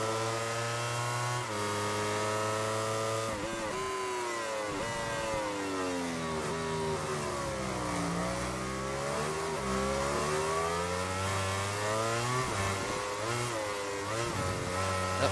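MotoGP 17 race bikes at the 2018 USA Grand Prix, with a Ducati in the pack: loud, continuous high-revving motorcycle engines climbing and dropping through gear changes, several machines overlapping close by, with no talk.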